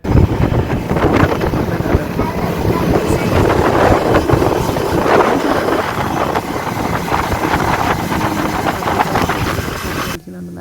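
A motorboat ride at high speed near mangroves in Langkawi, steady loud engine drone with wind rushing and water spray throughout, under ongoing talk.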